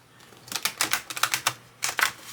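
Thick B.O.T.A. tarot cards riffled and shuffled quickly by hand, a run of close, crisp papery flutters and slaps in short bursts with brief pauses, loud and alone without talk.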